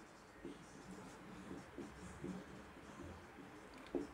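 A pen scratches across paper in short, faint strokes, writing out an accounting journal entry, with soft intermittent scribbles under quiet talk.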